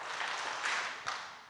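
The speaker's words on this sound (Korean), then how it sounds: "박수 세 번요" A church congregation at a Wednesday Bible study claps together three times in quick succession, a short, moderately loud group clap heard from within the hall.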